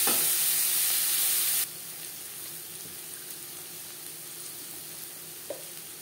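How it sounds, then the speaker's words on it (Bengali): Onions hiss and sizzle loudly in hot oil with spice tempering as they are stirred; the sizzle drops sharply after a second and a half and then continues as a steady, quieter frying hiss with a faint clink near the end. "ফোড়নের সাথে পেঁয়াজ বেশ ভালো করে মিক্স করে দেব"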